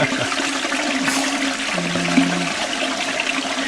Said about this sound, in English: That's a long toilet flush.